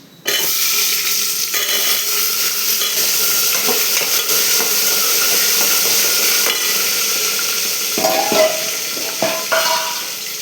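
Potatoes drop into a hot pan and fry, starting with a sudden loud sizzle that settles into a steady, close, hissing crackle, with occasional scraping stir noises near the end.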